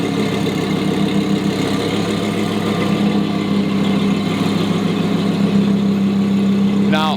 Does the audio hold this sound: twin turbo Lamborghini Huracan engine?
yes